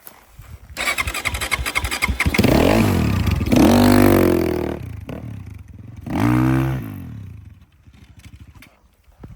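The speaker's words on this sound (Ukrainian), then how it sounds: "ось пацани, як заводиться ерка в реальних умовах" A Geon GNS 300 motorcycle cranks briefly, catches and roars through loud revs, then drops to a rough, faltering idle before cutting out.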